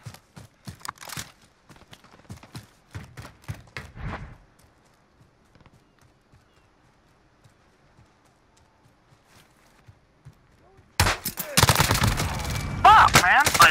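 Gunfire in Call of Duty: Modern Warfare: a run of sharp shots and cracks opens the clip, a near-silent lull follows, then a loud, dense burst of rapid fire erupts close up and runs to the end.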